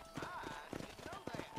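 Horse hooves clip-clop in the Red Dead Redemption video game, soft and fairly close, with a low game-character voice speaking over the steps.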